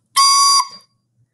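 A recorder overblown with too forceful air gives a shrill, piercing squeak for about half a second, loud and close, then fades quickly with no voices.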